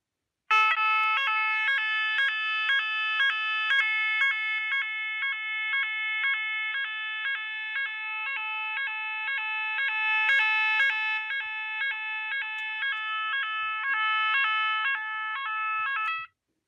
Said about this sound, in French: Voilà, donc ça change bien la puissance de la sirène.